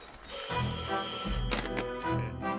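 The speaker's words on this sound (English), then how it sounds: "Phone's ringing." A telephone bell rings with a bright metallic trill, one long ring followed by a thump and a shorter burst.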